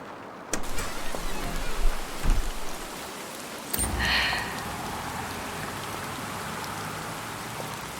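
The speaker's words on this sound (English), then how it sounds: "The rain hasn't let up." Steady rain falls in a noir city night scene, a dense continuous patter that swells loudly at first, briefly drops, then settles into an even, moderate wash with no voices.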